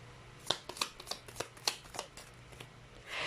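A deck of tarot cards is shuffled close up in a series of quick, crisp riffling bursts and slaps, about ten in a row, in a quiet room.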